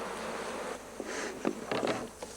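Honeybees buzz steadily at an open hive containing brood and pollen, a continuous close hum with a few louder individual passes near the end, no talking.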